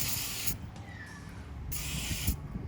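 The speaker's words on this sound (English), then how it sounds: "Spray your bowls that you're going to use and going to put in the oven." Two short hissing bursts from a cooking spray can into bowls, about a second each, separated by a pause, over a low background rumble.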